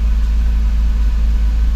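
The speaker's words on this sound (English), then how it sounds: "It is idling a little high right now because it's cool." A Porsche Cayman S (987) engine idles slightly high while cool, steady with a low, continuous rumble and a faint higher whine on top, with no talking.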